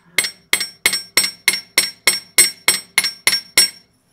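A hammer tapping a wire earring hook on a hard surface, twelve sharp, evenly spaced metallic strikes, loud and close with no talk.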